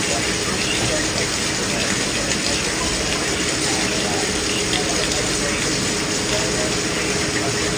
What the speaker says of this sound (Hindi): और बारिश भी सही तेज़ वाली है।